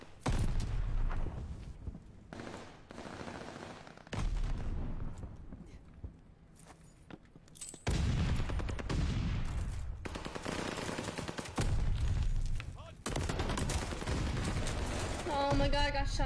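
Gunfire in a ranked online video game: bursts of shots and rapid automatic fire come in clusters amid other loud game action, with no talk.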